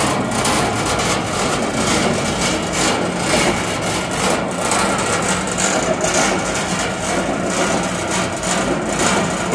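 A Valley Pioneer GF480 trommel dirt screener runs at 1800 RPM, giving a steady, loud, dense mechanical roar with rumbling engine tone and grinding, rattling texture that holds unchanged throughout, with no talk.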